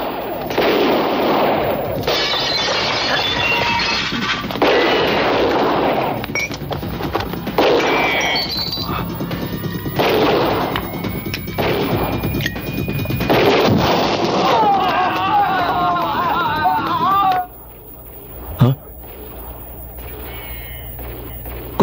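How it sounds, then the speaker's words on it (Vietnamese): Gunfire fills a film scene with repeated loud bursts of shots and heavy impacts over roughly twenty seconds. The blasts come in uneven clusters with whistling sounds between them, then end in a quieter stretch with a final thud. "hình như là tiếng súng đó"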